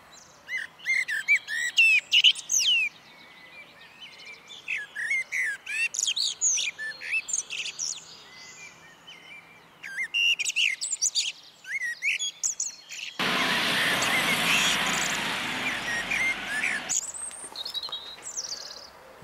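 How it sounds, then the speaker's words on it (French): Wild birds sing and chirp continuously, with many overlapping bright calls close by, followed partway through by a stretch of steady rushing outdoor noise. "les chants des oiseaux résonnent de tous côtés"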